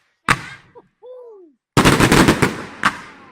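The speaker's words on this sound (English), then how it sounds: "Serious fireworks, man." Chinese New Year fireworks in Hengyang burst in a rapid crackling volley after a sharp single bang and a whistling rise, loud and close with no talking.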